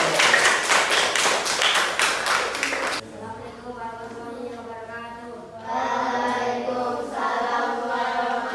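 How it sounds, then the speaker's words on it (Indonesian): Classroom applause for a student group presenting in a primary school religion lesson, a burst of rapid clapping for about three seconds, followed by quieter room sound with voices. "Beri tepuk tangan kepada kelompok 2."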